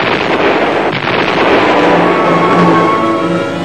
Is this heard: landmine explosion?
yes